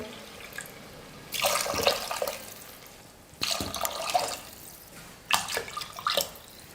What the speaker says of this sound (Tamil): ரெண்டு டம்ளர் அரிசிக்கு 4 டம்ளர் தண்ணி சேர்த்துக்கிறேன்.